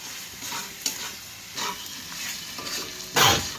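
Chicken stirred and fried in spice paste for dhaniya chicken: a few scraping stirs with soft sizzling between them, close by, ending in one louder sizzle burst, no talk.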